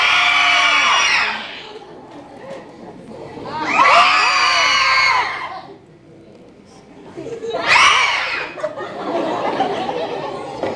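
Crowd of people screaming and going wild at Universal Studios, three loud bursts of massed shrieking and cheering separated by brief lulls, with chuckles and chatter in between and a louder, rougher final swell.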